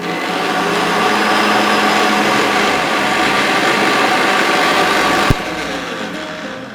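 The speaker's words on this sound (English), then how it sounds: "we just want to grind our lovely red saag until it's nice and smooth" An electric grinder blending red spinach (lal saag) into a smooth paste, a loud steady whirring motor drone that runs continuously before cutting off near the end with a short clunk.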